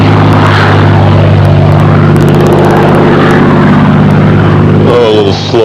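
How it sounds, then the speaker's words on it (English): A P-51 Mustang propeller plane at Oshkosh gives a loud, steady, close-up engine drone that fills the whole stretch without a break. "I'm up here at Oshkosh with a P-51, and you ain't here, so I'm going flying"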